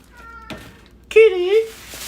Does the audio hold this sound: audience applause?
no